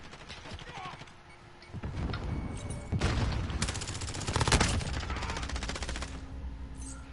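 Gunfire in the video game Call of Duty Modern Warfare, bursts of rapid automatic fire that swell and fade over several seconds, sometimes dense and loud, mixed with game effects and background noise.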